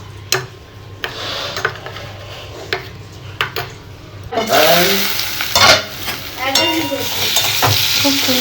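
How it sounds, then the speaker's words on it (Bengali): A spoon scrapes and stirs a curry mixture with ginger and tomato in a pan, a few taps at first, then a loud sizzle and frying hiss with irregular stirring strokes. "মিক্স করে নিই আর এই আদাটা টমেটোটাও এর মধ্যে দিয়ে দেবো দিয়ে এটা পুরোটা মিক্স করে নেবো"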